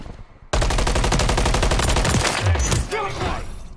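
Sustained rapid automatic gunfire in Call of Duty, a loud, tightly spaced burst of machine-gun shots running steadily for about two seconds before tapering off, with a brief shouted voice near the end.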